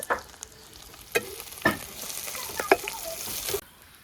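Malabar spinach (pui shak) fries in a pan, a soft sizzle under several sharp utensil scrapes and clanks from stirring, ending abruptly.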